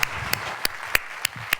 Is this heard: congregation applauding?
yes